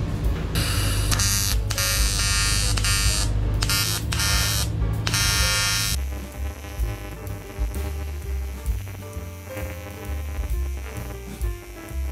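Predator AC/DC TIG welder running on aluminum, a loud continuous buzzing hum that pulses on and off for several seconds and then settles into a steadier, slightly quieter drone.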